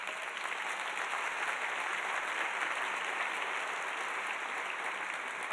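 Audience applause at a public leadership award ceremony, a steady even wash of many hands clapping throughout, fairly distant and sustained without pauses or voices.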